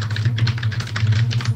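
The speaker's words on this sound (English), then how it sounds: "You're literally slapping your keyboard as loud as you can." A computer keyboard slapped hard and fast during an online competitive game, a rapid loud clatter of keys close to the microphone, layered over a steady low hum.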